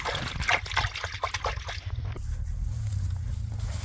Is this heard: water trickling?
yes